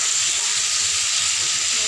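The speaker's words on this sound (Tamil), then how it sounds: "இப்போ நம்ம மீன் பொரிக்க போட்டு வச்சுக்கிறோம்." Oil sizzles loudly and continuously, a bright steady crackling hiss of fish frying close by.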